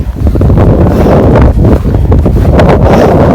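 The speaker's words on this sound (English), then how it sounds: "it's so windy as well" Loud, gusty winter wind at Nordkapp roars against the microphone, a dense low rumble that never lets up, with no voices.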